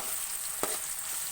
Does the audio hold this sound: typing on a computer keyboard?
no